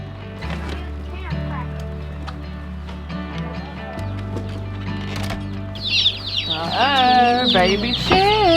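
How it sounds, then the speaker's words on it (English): Baby chicks break into a cluster of high, rapid peeps in the last few seconds, rising over a steady low hum that fills the earlier part. "Baby chicks."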